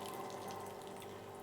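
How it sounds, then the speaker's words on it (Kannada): Water is poured into a pan of soya chunk gravy, making a continuous quiet splashing gush that holds steady throughout, with no one speaking. "ಈಗ ನಿಮ್ಮ ಗ್ರೇವಿಗೆ ಅಷ್ಟು ನೀರು ಆ್ಯಡ್ ಮಾಡ್ಕೊಳ್ಳಿ."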